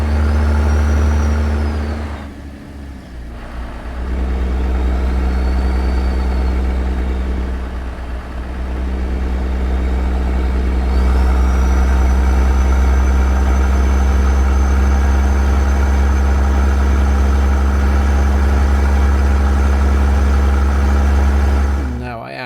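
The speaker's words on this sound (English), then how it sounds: "I like the sound of this engine" A big Caterpillar C-15 diesel truck engine in a video game drones steadily with a deep, loud rumble, briefly dipping and surging as the revs change.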